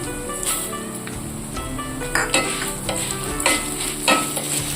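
Coriander seeds and spices dry-roasting in a pan, giving a steady crackling sizzle with occasional scraping stirs close by and no talking.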